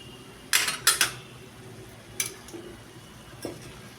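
A metal spoon scrapes and clinks against a cooking pan as ginger and spices are stirred, a few sharp knocks in quick succession then scattered fainter taps, no talking.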